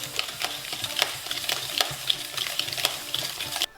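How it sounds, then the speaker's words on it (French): Melted butter is stirred into dry powdered ingredients in a bowl, a close, steady scraping and tapping of the utensil against the bowl repeating quickly, with no talk. "je vais mélanger afin que le mélange soit bien homogène"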